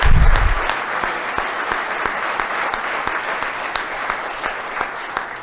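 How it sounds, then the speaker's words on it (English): Audience at a high school athlete of the year awards banquet gives a round of applause for the event staff, a loud, dense, sustained clapping that fills the hall and slowly eases off. "I'd like everyone to give a round of applause for the entire DAC staff"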